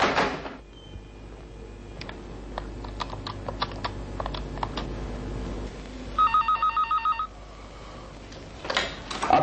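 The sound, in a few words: telephone ringing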